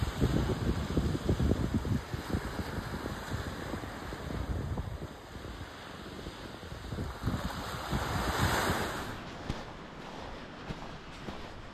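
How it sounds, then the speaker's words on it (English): Ocean waves and wind at Redgate Beach, a steady rumbling wash of surf with gusty wind buffeting the microphone, fairly loud and with no voices. "This is Redgate Beach."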